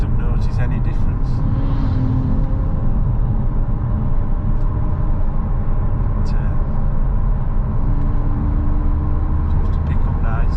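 Tuned VW Passat 2.0 BiTDI diesel driving steadily in sport mode, a loud continuous in-cabin engine drone and road rumble with faint tonal whine, with people talking over it.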